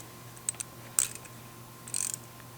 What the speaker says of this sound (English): we're going to lock them against each other with two 10mm wrenches